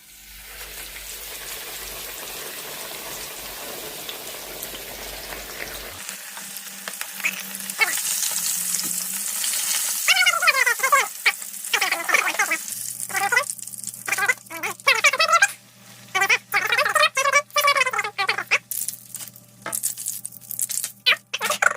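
Fish frying in hot oil for Jamaican escovitch fish, a steady sizzle and crackle running throughout, with louder spatters and stirring clatter building in the second half, close and fairly loud.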